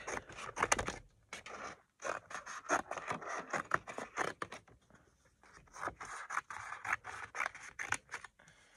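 Rapid, rhythmic snipping of scissors cutting through paper, close and continuous with brief pauses, no talking.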